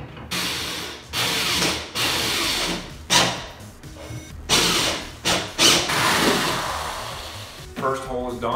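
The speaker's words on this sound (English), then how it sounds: "We use a 1 1/4 inch hole saw." Several bursts of a power drill with a 1 1/4-inch hole saw grinding through material, starting and stopping in uneven stretches, loud and close, with brief pauses between runs.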